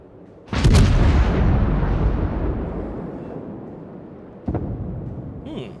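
Naval guns in World of Warships fire high-explosive shells in a heavy, booming salvo that rolls and decays over several seconds, followed by a second sharper report near the end, with no talking.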